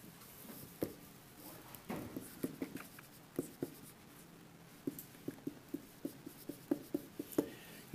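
Chalk or marker strokes on a board in a calculus classroom, a string of short, quiet taps and scratches in uneven bursts, growing more regular toward the end, with no voices.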